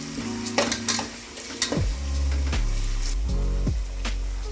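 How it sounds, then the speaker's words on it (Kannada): Ginger garlic paste fries in a pan for chicken donne biryani, a steady close sizzle with repeated scraping stirs of a metal spoon against the pan and a few sharp clinks. "ಈಗ ನಾನು ಶುಂಠಿ ಬೆಳ್ಳುಳ್ಳಿ ಪೇಸ್ಟ್ ಹಾಕಿದ್ದೀನಿ. ಅದು ಸ್ವಲ್ಪ ಹಸಿ ಹೋಗೋವರೆಗೂ ಸ್ವಲ್ಪ ಫ್ರೈ ಮಾಡ್ಕೊತೀನಿ."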